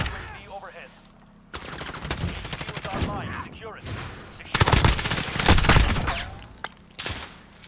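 An MP7 fires in rapid automatic bursts in Modern Warfare, two long loud volleys with short breaks between them, mixed with game effects and a voice talking.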